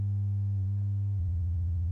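Steady buzzy synthesizer waveform tone from a modular synth with modules plugged into flying bus boards; it changes about two-thirds through into a pulsing, stuttering tone as a module is unplugged, close and loud, no voices.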